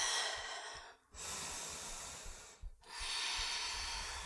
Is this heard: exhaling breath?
yes